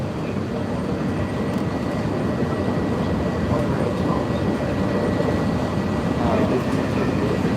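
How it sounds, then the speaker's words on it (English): A Disney resort monorail rushes past close by, a continuous broadband rumble and whoosh of rail travel that holds steady throughout. "I don't know where a monorail comes streaking by us."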